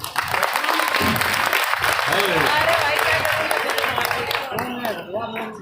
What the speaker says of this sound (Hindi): और एक बार तालियां बजाओ फिर मैं शुरू होता हूं।